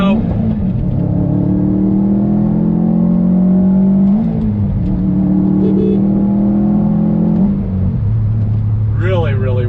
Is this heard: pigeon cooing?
no